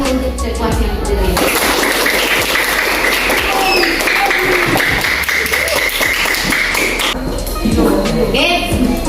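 A group of teachers and participants at a coaching session claps together, dense bursts of hands with shifting patterns, while a voice talks over part of it.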